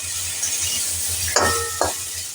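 Dal spices and turmeric stirred in a hot pan over a soft sizzle, with a couple of metallic clinks of a spoon against the metal, close up.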